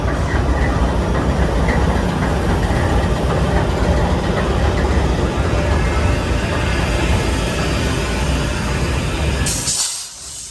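A heavy freight train hauled by General Electric diesel locomotives rumbles nearby with a constant, dense roar of engine and rolling wagons, ending abruptly.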